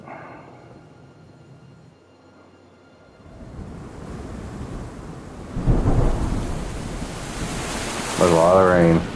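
Heavy rain and rumbling thunder in the medieval game Kingdom Come Deliverance 2 build from quiet to a loud, wide wash with deep rolling booms, and a voice speaks briefly near the end.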